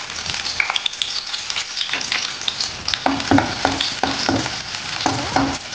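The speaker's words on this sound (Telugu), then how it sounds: "ఇప్పుడు ఇందులో మనం ఇట్లా తరిగి పెట్టుకుని ఈ గార్లిక్ ఇందులో వేసేద్దాం." Chopped garlic sizzles in hot oil in a pan, with a spatula scraping and stirring through it in repeated strokes that grow busier in the second half; close and fairly loud, no talking.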